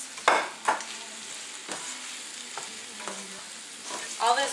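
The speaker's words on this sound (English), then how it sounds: "I'm going to dump the pasta in just like that, and I'm going to give it a nice mix" Pasta tipped into a pan of vegetables and stirred, a soft sizzle with several scraping stirs and clatters of the utensil against the pan, close and fairly quiet.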